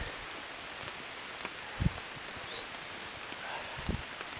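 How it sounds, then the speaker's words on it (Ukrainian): Soft, steady patter of rain on forest leaves in the Carpathian lowlands, with a couple of faint thuds and rustles nearby. "У нас якраз почався дощик"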